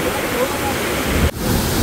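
Iguaçu Falls roars as a loud, dense, continuous rush of falling water, close and steady, with a brief dip near the end.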